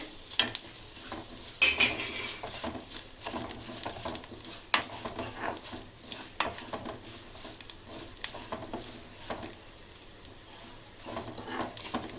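Fennel, cumin and poppy seeds fry in hot oil in a pan, giving a steady low sizzle broken by frequent scraping stir strokes and light clinks of a spoon against the metal.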